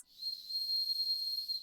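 A thin, high whistle tone sounds once, steady and faint for under two seconds, a voice imitating a distant brass whistle.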